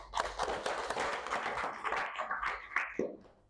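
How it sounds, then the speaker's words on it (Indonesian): A group of participants at an emotion-management session claps together, fairly faint and uneven individual claps scattered over a few seconds, with no voices. "tepuk tangan untuk kita semua"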